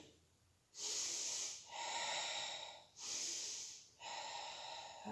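Deep breathing during a Pilates exercise, two long airy inhale-exhale cycles close to the microphone, each strong hissing breath separated by a brief pause.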